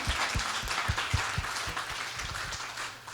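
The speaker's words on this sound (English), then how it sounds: "Let's give you guys a round of applause" A live stage-show audience applauds, a dense, steady wash of clapping lasting the whole stretch, punctuated by occasional low thumps.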